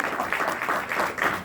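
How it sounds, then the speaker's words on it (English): An audience claps at a cinema celebration event in an indoor hall, a steady ripple of applause from a crowd lasting throughout, moderately loud. "Please clap once more so she can see you"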